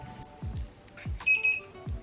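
A mug heat press beeps when it is ready, giving two short high electronic tones in quick succession. They sit among soft low thumps and background room noise.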